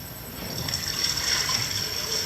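Ocean waves wash steadily around a floating wave energy converter built from styrofoam and a chain, a continuous broad rushing and sloshing of water heard up close without speech.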